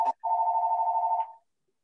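A telephone rings once during a town Board of Selectmen meeting, giving a single warbling electronic trill about a second long that is clear and loud against silence.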